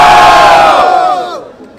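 Loud crowd roaring and cheering at a Brazilian street rap battle, a dense wall of shouting voices that swells and then fades out over about two seconds.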